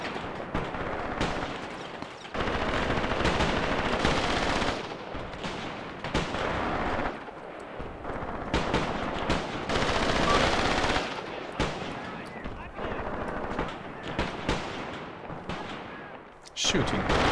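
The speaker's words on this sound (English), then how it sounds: "Shooting their rifles." Rifle fire rattles through a Graviteam Tactics battle in a forest bridgehead: dense, overlapping volleys of shots and bursts that surge and fade in waves, loud and continuous for most of the stretch.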